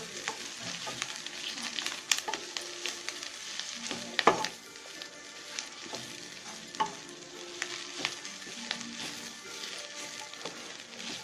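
Mint and coriander leaves sauté in a pan for chutney, a steady soft sizzle broken by frequent scraping stirs and light clinks of the spoon, close and fairly quiet.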